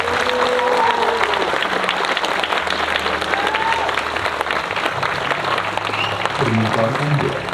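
Sustained applause from a theater audience after a stage performance, dense and steady throughout with crowd noise and some voices mixed in.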